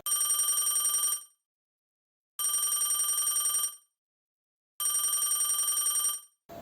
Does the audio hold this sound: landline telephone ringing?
yes